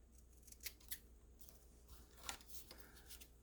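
A sheet of vellum packaging snipped with scissors, a few quiet, crisp cuts in short bursts close by.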